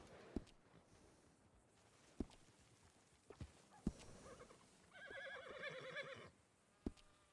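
A horse in Red Dead Redemption 2 whinnies with a bright, wavering neigh, set among scattered hoof clops and thuds in a quiet, game-like ambience.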